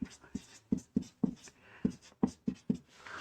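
Pen scratching out a math solution by hand for a Class 10 NCERT coordinate geometry exercise, a run of short, close strokes in an irregular rhythm with brief pauses between them.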